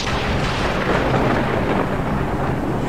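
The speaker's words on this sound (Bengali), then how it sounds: "এই অসময়ের বৃষ্টি যে আমার ক্ষেতের সব ফসল নষ্ট করে দেবে" A downpour with rolling thunder in an animated Bengali cartoon about a farmer's field crops: a dense, steady roar of rain and rumble fills the whole stretch, loud and close, with no voices.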